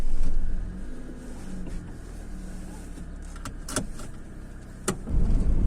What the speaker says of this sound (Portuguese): E agora vamos dar uma voltinha no Classic